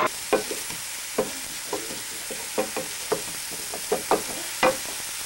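Onions frying golden brown in a pan for Swedish meatballs give a steady sizzle, while a utensil scrapes and stirs them in repeated sharp strokes close by.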